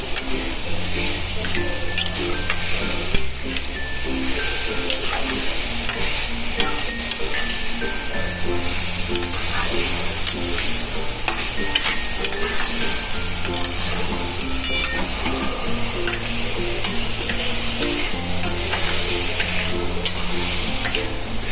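Grated carrot stirred with sugar in hot ghee for carrot barfi, a continuous sizzle with scraping stirs under steady background music, no talking.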